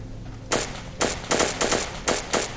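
Weapons fire in the online shooter game Stalker Online: six sharp, loud shots, the first after a short quiet stretch and the rest in a quick, uneven burst, with no talking.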